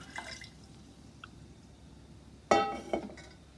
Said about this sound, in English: this is the water coming from the Berkey water filter.